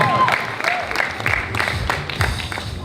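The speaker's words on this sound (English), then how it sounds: "let's give Meena a big round of applause" Guests at a wedding reception give a big round of applause, loud close clapping mixed with some crowd noise and voices underneath, continuous for a few seconds.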